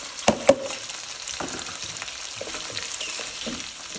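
Onions sizzle and fry in a pot alongside potatoes for a one-pot fried cabbage and sausage dish, with a steady close sizzle and a couple of clanks from a utensil early on.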